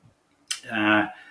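A trigger-pump fly spray bottle gives a single short squirt, a sharp hiss that bursts out and then settles into a brief, steady spray, heard up close on its own.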